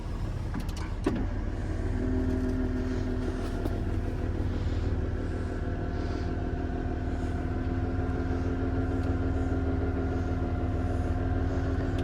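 A 2003 Dodge Caravan IMS Braun Rampvan wheelchair van with 51k miles sits running with its air conditioning on, giving a steady close engine and blower hum. A brief clatter sounds near the start.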